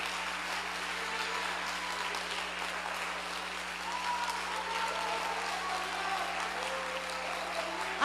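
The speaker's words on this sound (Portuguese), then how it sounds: "Você pode dar uma salva de palmas para aquele que vive e reina." A church congregation applauds during a worship service, giving sustained clapping at an even level throughout.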